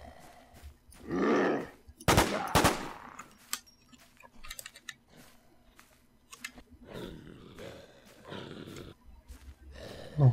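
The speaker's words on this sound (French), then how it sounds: "j'ai quand même entendu quelqu'un me tirer dessus" Gunshots ring out in the survival zombie game Infestation, a few sharp loud cracks in quick succession amid bursts of rough noise and quieter gaps, with no talk.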